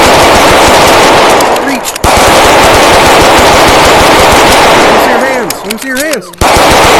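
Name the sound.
gunfire from the video game Bonelab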